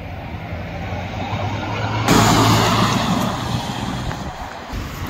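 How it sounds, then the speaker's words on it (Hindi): Heavy night-time road traffic in Manali in winter: a continuous rumble of engines close by, with one vehicle swelling loudly as it passes partway through before the flow settles back; no talk is heard. "भाई ट्रैफिक है एकदम से बहुत ज्यादा भारी ट्रैफिक है"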